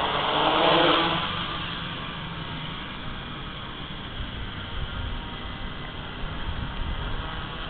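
An ArduCopter drone's motor runs during a test flight, giving a steady broadband whirring hiss with a louder surge near the start, then an even drone for several seconds.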